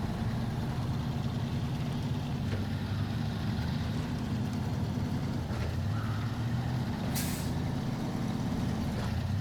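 A heavy truck in SnowRunner drives along the Black River map in Michigan, its engine a steady, loud low rumble throughout, with faint clanks and a sharp air-brake hiss toward the end.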